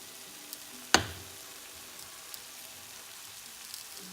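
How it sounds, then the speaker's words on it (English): Tofu crisps in a hot pan with a soft, faint, even sizzle like light rain. A single sharp clack sounds near the start. "토프가 이제 앞뒤로 이렇게 노랗고 빳빳하게 구워졌어요"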